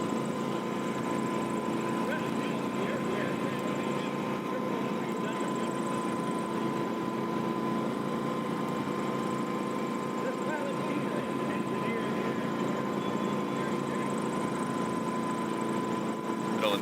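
Helix STOL aircraft flying at the Sun N Fun fly-in, a steady droning engine and propeller hum running throughout beneath people talking.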